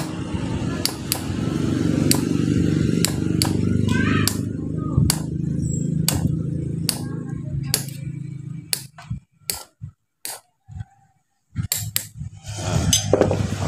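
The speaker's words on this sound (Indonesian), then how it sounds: "tinggal di tok pakai paku yang sudah diratakan ujungnya ya" A flattened nail is tapped against a dynamo winding in a rapid run of sharp, bright metallic knocks, some evenly spaced and others clustered, heard close over a low background hum that fades midway.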